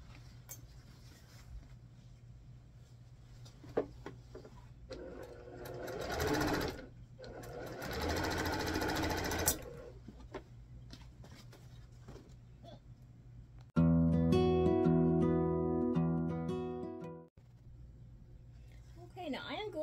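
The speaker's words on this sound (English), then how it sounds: "here I am at the sewing machine, just going to sew all of these down real quick." A sewing machine runs in a steady, rapid whir of stitching for several seconds, then stops; quiet handling noises and a brief musical passage follow.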